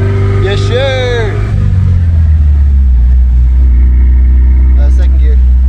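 A classic Toyota truck engine drones steadily while driving and shifting gears, a loud, close, low hum inside the cab, with people talking over it and a whooping vocal rise near the start.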